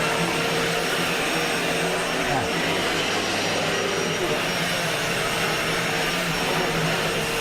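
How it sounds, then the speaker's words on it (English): A household vacuum cleaner runs continuously at steady loudness, a broad roaring whine filling the whole stretch with no pauses. "This is what happens when I vacuum."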